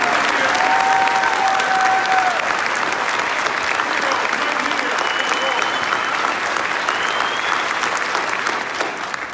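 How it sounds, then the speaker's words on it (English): A large audience applauds loudly and continuously at an Aurora Police Department Medal of Valor recognition ceremony, a dense, steady wash of clapping from an indoor crowd. "One more round of applause."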